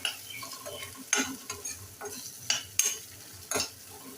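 Tomato gravy with half a spoon of chili powder being sautéed in a pan for Malvani chicken curry: a low steady sizzle broken by several scraping spoon strokes, close and moderately loud, no talk.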